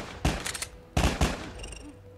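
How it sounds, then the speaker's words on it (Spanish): Gunfire from the Black Widow trailer: a loud, close burst of shots, then a second burst of two sharp cracks about a second later, each ringing out briefly before a fading tail. "¿Le dispara a una bailarina rival?"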